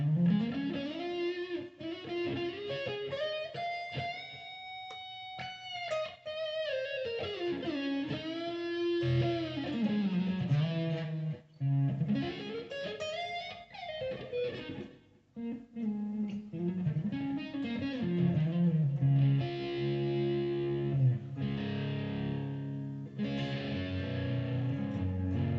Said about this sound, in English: When you back off the volume just a little bit instead of being full,